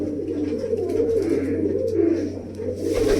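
Pigeons cooing close by in low, throaty rolling calls that repeat and overlap, over a steady background hum.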